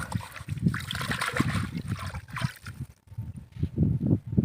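Water splashes and sloshes as it is drawn from the Damodar river, with irregular close splatters and low gurgling surges, including a short pause midway.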